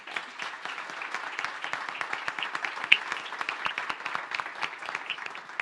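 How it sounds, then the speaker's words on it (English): A summit audience applauding a presenter, with dense sustained clapping from many hands that carries on steadily for several seconds at moderate loudness. "let's get a round of applause for Mari."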